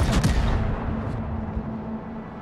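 Heavy naval gunfire from an IJN battleship, the Fuso, in World of Warships, with a loud booming salvo at the start that rolls off into a sustained low rumble.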